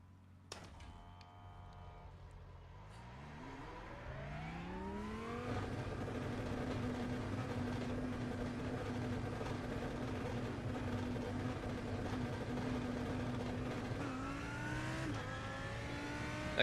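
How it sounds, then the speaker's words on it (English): A video game race car engine in the pit lane revs up in rising sweeps, then holds a steady buzzing drone before climbing again, with crackly exhaust backfire pops and a sharp bang near the start. "That car sounds so cool in the pit lane with all the backfire running through the exhaust"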